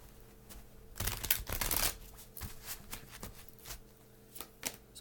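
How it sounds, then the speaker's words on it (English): A deck of reading cards shuffled by hand, close and quiet, with a burst of papery riffling followed by softer intermittent taps and slides, no talk. "Sometimes I just like shuffling."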